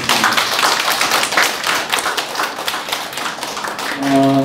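An audience at a Korean book-discussion group gathering claps together, a dense steady patter of many hands lasting several seconds before a voice begins speaking near the end.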